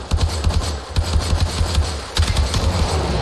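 Automatic weapon fire in a video game: loud, close bursts of rapid shots with short gaps between them, repeating steadily throughout.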